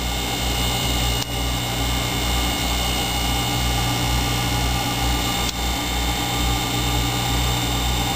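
Upgraded X2 motor fan running at one-third of full speed, a steady even whir and hiss holding throughout at moderate level, with two brief clicks along the way.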